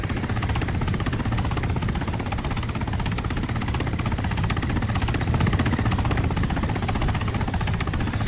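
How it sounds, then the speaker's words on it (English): Ka-50 attack helicopter in the Arma 3 game, its rotor and turbine drone running steady and loud for the whole stretch with a faint high whine on top, no voices. "So that's KA-50."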